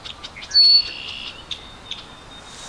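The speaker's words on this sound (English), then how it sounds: "Some red-winged blackbirds." Red-winged blackbirds call in a cattail marsh, giving a few clear, shrill whistled notes and short chirps over a faint outdoor background. The calls come at a moderate distance and no one speaks.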